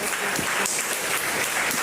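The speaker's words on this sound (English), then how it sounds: "Please give them a big round of applause." An audience at a university endowment launch event gives a dense, steady round of applause for the MCs, filling the room evenly from start to finish.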